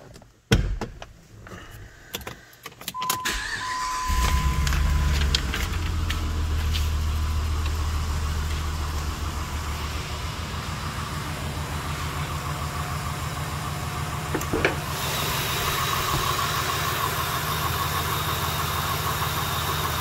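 A 2005 Jeep Grand Cherokee Limited with a 4.7 V8 and fresh oil change starts after a few clicks and door sounds, then settles into a steady, even idle that runs close and continuous for the rest of the stretch.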